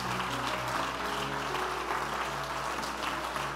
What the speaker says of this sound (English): Clap your hands and thank God for it.